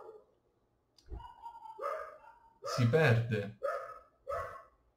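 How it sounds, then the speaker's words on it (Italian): A dog barks a few times in the background while a person speaks steadily in Italian, with the barks partly masked by the voice. "Chiedo perdono se si sente un cane abbaiare"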